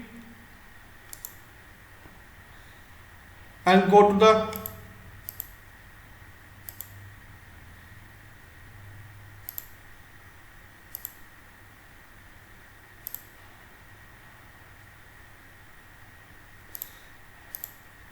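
Sparse, faint computer mouse clicks scattered across a quiet room over a low steady hum, with a short burst of speech near the start.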